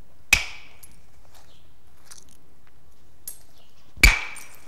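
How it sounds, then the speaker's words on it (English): Direct flint knapping with a hardwood boxwood hammer: two sharp, bright cracking strikes about four seconds apart, each ringing briefly, with faint small taps between them and no talking. "a hardwood, like this piece of boxwood, can be used for direct knapping"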